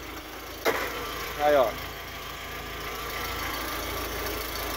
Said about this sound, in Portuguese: Agora, motor funcionando.